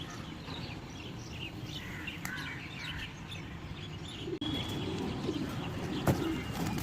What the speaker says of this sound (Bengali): এই কারণে কবুতরগুলো এসেও সুন্দরভাবে উঠতেছে